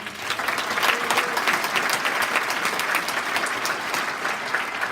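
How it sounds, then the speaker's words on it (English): Steady, dense applause from a town hall audience at AB Tech honoring state legislators, filling the room evenly at close range for about five seconds without speech. "let's give another wonderful round of applause for our legislators"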